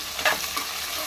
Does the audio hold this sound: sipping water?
no